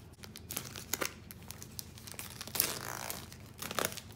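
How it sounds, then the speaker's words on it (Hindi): Plastic wrap comes off an Oppo F19 Pro phone box with soft crinkling and rustling, broken into irregular bursts with a few louder crackles, close and quiet. "पन्नी इसकी हटा लेते हैं।"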